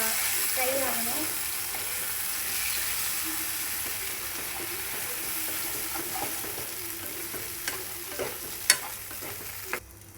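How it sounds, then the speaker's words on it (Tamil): Red banana halwa frying in ghee in a pan while being stirred, giving a soft continuous sizzle with scraping stir sounds and a few sharper clinks near the end. "இப்போ வந்து நல்லா இதை கிண்டி விட்டுக்கலாம். இந்த நெய்யில் வந்து நல்லா ஃப்ரை ஆகணும்."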